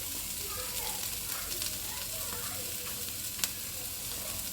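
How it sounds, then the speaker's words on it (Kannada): Food frying in a pan gives a quiet, steady sizzle with light stirring and one brief faint click. "ನೋಡಿ, ಸ್ವಲ್ಪ ಇದು ಫ್ರೈ ಆದರೆ ಸಾಕು"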